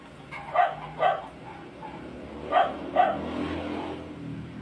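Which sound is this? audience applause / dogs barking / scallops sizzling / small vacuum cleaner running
dogs barking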